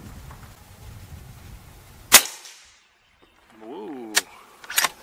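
A suppressed 350 Legend rifle firing a subsonic round, a single sharp muffled crack followed by a short fade, then a voice speaking and a couple of further sharp clicks or impacts.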